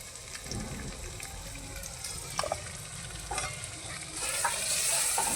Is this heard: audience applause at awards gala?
no